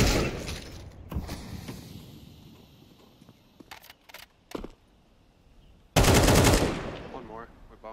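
Counter-Strike 2 gunfire rings out in sharp bursts, a few scattered single shots and a loud rapid volley near the end, over quiet in-game ambience.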